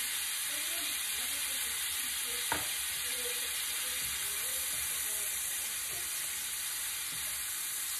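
Shrimp coated in Cajun seasoning sizzle in a hot pan with a steady, even hiss, broken once midway by a brief sharp clack from stirring.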